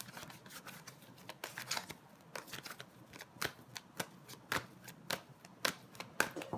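Tarot cards handled and laid down on a surface, a quiet run of crisp flicks, slaps and shuffling snaps in an irregular, fairly quick rhythm, close and soft, with no talking.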